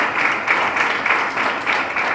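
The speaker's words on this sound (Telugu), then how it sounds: "కూర్చున్న వాళ్ళు చప్పట్లు" Seated audience in a church gathering clapping together, a steady, moderately loud patter of many hands with a faint rhythmic pulse and no voices.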